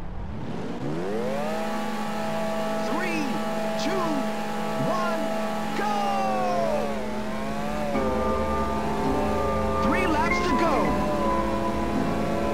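Race car engines rev and whine in the Ridge Racer video game, several pitches climbing and falling together in sustained tones as cars shift gears, with a brief spoken game announcement layered over the engines.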